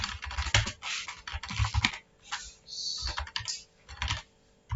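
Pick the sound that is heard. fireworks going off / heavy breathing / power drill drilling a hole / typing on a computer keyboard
typing on a computer keyboard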